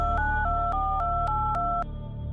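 A phone number is dialed repeatedly, giving a sequence of short clear electronic tone beeps at steady intervals over a low background hum.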